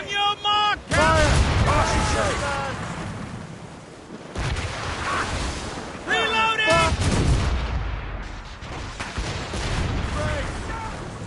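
Cannon fire in the naval action game Assassin's Creed Rogue, heavy booming volleys rolling out in loud bursts amid shouted commands and battle din.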